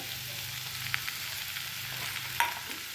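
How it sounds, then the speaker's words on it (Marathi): Boiled potatoes fry in a hot pan for aloo matar bhaji with a continuous close sizzle and a low hum, broken by a couple of light metallic clicks of a spatula. "आता आपण ह्याच्यामध्ये जे बटाटे आपले होते बटाटे टाकूयात"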